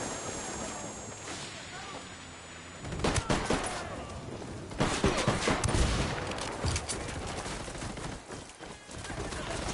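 Video game firefight in Ghost Recon Wildlands: dense bursts of automatic gunfire crackle repeatedly, loud and close, with brief pauses between volleys and faint speech mixed in.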